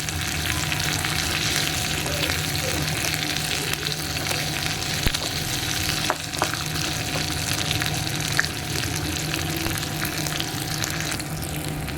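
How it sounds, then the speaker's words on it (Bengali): Potatoes frying in a pan, stirred throughout, make a dense and constant sizzle at close range, with a few faint clinks of the spoon and no one speaking. "এবার এটা ভালো করে নাড়াচাড়া করুন আলুগুলো একটু লাল হোক ততক্ষণ এটাকে ভালো করে ভাজবো"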